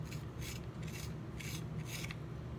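A handheld pencil sharpener rasps steadily against a black pencil with close, repeated scraping strokes in a quiet room.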